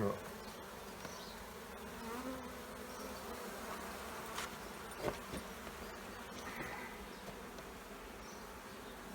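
Honey bees swarm in an opened beehive in early season, a dense continuous buzz at close range with a few soft knocks and handling bumps, and no one speaking.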